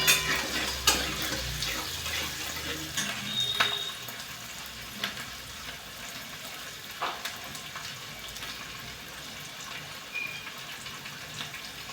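Onion and green chili frying in a kadhai over high gas, a steady broadband sizzle with scattered sharper crackles and stirring clatters, close and moderately loud throughout, no talking.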